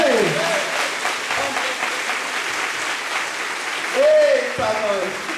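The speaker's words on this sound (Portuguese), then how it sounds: "Aquele que crê, dê uma salva de palmas para Jesus." A church congregation claps loudly and continuously in praise of Jesus, a full sustained round of applause with a preacher's raised voice calling out over it at the start and again near the end.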